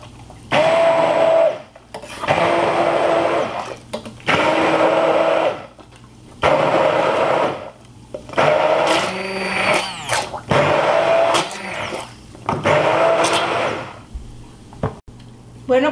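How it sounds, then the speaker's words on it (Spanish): A kitchen blender grinds ingredients with chicken broth for picadillo ranchero with chorizo, running in loud repeated bursts of a few seconds each with short pauses between. "Voy a moler."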